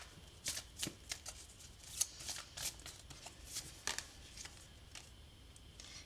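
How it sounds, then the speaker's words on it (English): A deck of oracle cards is shuffled by hand, giving a series of quick, crisp riffling and flicking bursts in an irregular rhythm, close and fairly quiet. "I'm going to pull one last oracle card for you."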